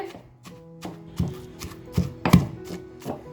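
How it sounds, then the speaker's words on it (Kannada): Ingredients for a ragi flour dish are crushed by hand in a steady rhythm of dull thuds and taps, about two per second, close up in a quiet kitchen with no talk. "ಇಷ್ಟನ್ನು ಸೇರಿಸ್ಕೊಂಡು ಚೆನ್ನಾಗಿ ಜಜ್ಕೊಂಬರೋಣ."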